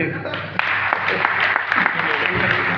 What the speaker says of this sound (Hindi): गुजरात वाले तो ताली बजा दो।